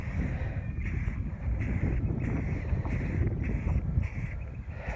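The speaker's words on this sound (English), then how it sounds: "The wind is really kicking my butt today." Strong wind blows outdoors while a car's rear valence is being painted, a loud, steady buffeting roar that gusts and rushes across the microphone with no talking.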